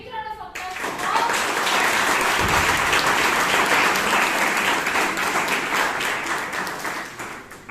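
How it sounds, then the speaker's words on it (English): An audience claps loudly and continuously at a Bangalore Toastmasters meeting. The sustained round of applause starts after a brief moment of voice and tails off slightly toward the end. "can we have a big round of applause for all?"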